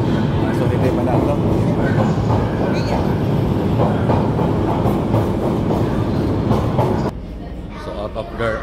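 An underground tube train running nearby, a loud steady rumble with rhythmic clickety-clack of wheels that drops off sharply near the end, with people talking over it.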